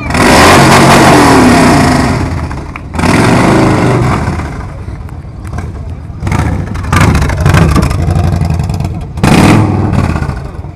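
A motorcycle with no silencer on its exhaust pipe starts and revs hard, loud and close, in several bursts with brief drops to a rough idle between them, at a 2013 motorcycle season opening event.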